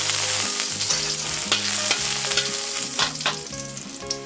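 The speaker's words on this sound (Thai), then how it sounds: "หลังจากนั้นนะคะเจียวกระเทียมพอหอมค่ะ" Steady, loud frying sizzle of garlic cooking in hot olive oil, with a few clicks and scrapes of a utensil against the pan and faint background music.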